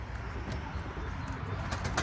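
Soft cooing of pet pigeons over a steady outdoor background, with a few faint flutters, continuous and moderately quiet.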